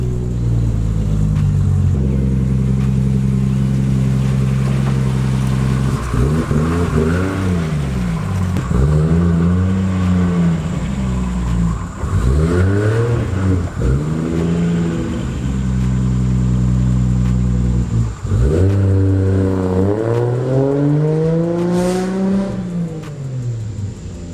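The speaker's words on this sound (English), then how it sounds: "maybe we'll take it for a quick spin around the block since it's running" A Nissan 240SX with a swapped RB25 engine revs and accelerates through repeated rising and falling engine pulls, loud and close, with gear-change dips between runs and no voices.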